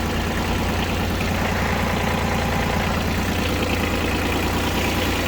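A Mitsubishi MT135 three-cylinder mini tractor engine runs continuously and loudly close by, a steady rumbling idle with a low pulsing throb throughout.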